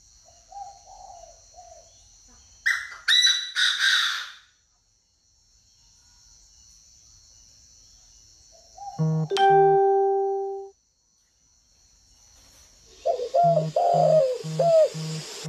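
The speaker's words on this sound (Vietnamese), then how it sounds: "Yêu sao tiếng gáy chim cu" Spotted doves cooing in a northern Vietnamese bird garden at Ba Vi, Hanoi, a few rhythmic repeated coo phrases with a sharp call in between, fairly close against quiet background and faint insect hum.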